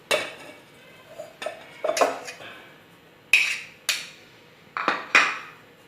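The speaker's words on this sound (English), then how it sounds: "Now let's just start mixing all the other ingredients." Rajma mince kabab ingredients are mixed in a bowl, making intermittent clinks and knocks of utensils against the dish, separated by quiet pauses and varying in loudness.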